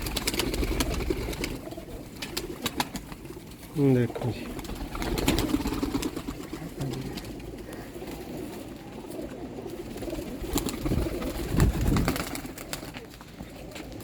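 Rare Sialkoti pigeons in Sialkot give soft, low coos, including a clear run of repeated coos, close by beneath steady background noise while someone talks over them.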